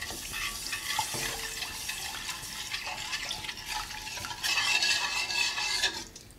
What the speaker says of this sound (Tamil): பாலை சேர்த்தும்போது நம்ம கலந்து விட்டுக்கிட்டே தான் சேர்த்தணும்,